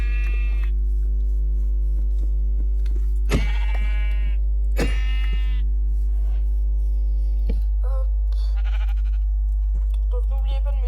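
Minecraft sheep give a few loud, separate bleats spread over several seconds, with quieter rustles between, all over a constant low hum.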